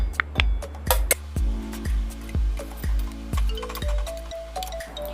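Boiled catla fish pieces are lifted out of water one after another, producing a regular series of short metallic clinks and soft wet knocks from the utensil against the pot, close by and with no talk.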